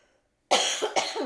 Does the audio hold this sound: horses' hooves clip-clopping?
no